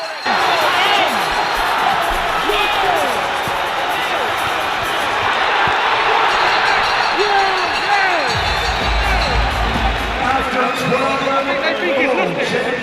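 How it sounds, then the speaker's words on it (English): A boxing crowd at a heavyweight fight rises to its feet and roars in the final seconds of the bout, a loud sustained wall of cheering with whoops under an excited commentator's voice. "The crowd on that feet roaring."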